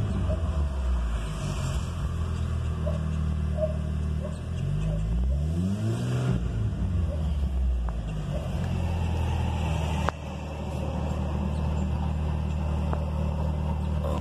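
A cold VW 2.0 engine idles with a low steady rumble, then is revved once, its pitch climbing and falling back before it settles to a slightly raised idle, close and continuous.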